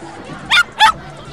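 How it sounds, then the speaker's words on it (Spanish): A female dog gives two sharp, high yipping barks in quick succession, loud and close, over a faint murmur of background noise at a street gathering in San Miguelito. "Mire, mire, una perra empoderada"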